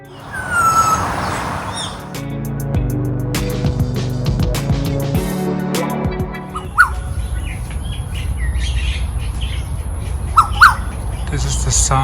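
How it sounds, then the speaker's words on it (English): Exotic birds squawk and call intermittently in a Singapore park, a few sharp bright cries rising over a steady outdoor wash of traffic and ambient noise, with a stretch of louder mixed background in the middle. "We were also lucky to see and hear some exotic birds"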